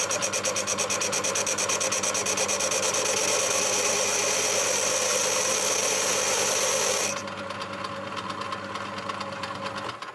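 A machine tool chatters hard while parting off a toilet seat hinge part, a loud, fast, buzzing rattle that keeps going for about seven seconds and then drops to a quieter, steadier cut as the speed is slowed.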